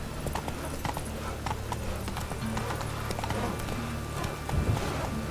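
In The Witcher 3, the horse Roach gallops in a steady, even beat of hoofbeats, moderately loud under a constant game background, with no talk.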